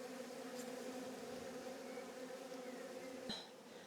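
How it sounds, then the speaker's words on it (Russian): Honey bees swarming around a beehive on a mountain farm in Georgia, a steady close buzzing drone from many insects continuing evenly for a few seconds. "Это вот все пчелы с этого улья."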